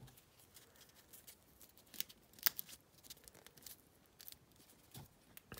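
Scissors cutting cardboard material for a craft cannon barrel, faint scattered snips and one sharp crisp cut, close but quiet with no voices.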